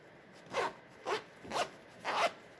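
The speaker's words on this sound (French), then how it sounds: "Le bout de fermeture éclair est posé. Donc maintenant, on n'a plus qu'à fermer la pochette." A zipper slides shut on a sewn fabric pouch in four quick rasping pulls, close up, with short pauses between strokes and no talking.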